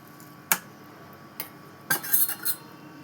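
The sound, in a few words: knife cutting mangoes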